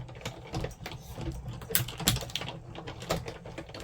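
Electronic card-cutting machine slicing a card shape, giving a steady mechanical whirring with rapid ticking and clicking bursts as the blade moves, close and moderately loud with no talk.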